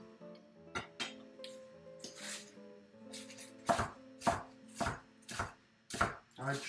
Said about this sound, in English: I chop up my greens